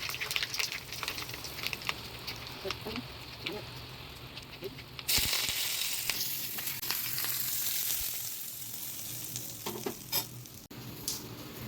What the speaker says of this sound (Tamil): கடுகு காஞ்ச மிளகா பெருங்காயத்தூள் கருவேப்பிலை இதெல்லாம் போட்டு தாளிச்சிட்டேன்